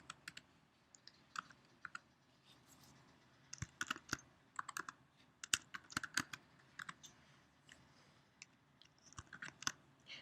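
Bursts of clicking keystrokes on a computer keyboard while code is typed in, irregular clusters of taps spread across about ten seconds, close and fairly quiet with no talking.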